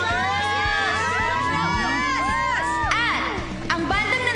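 An audience at a 2020 music contest shouts and cheers for their favourite band, a loud, continuous swell of many high voices whooping and screaming close by.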